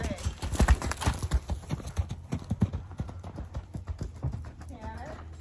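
A Tennessee Walking Horse mare canters close by, hooves clip-clopping in a quick, steady rhythm with loud repeated thuds throughout, while a person speaks over the hoofbeats.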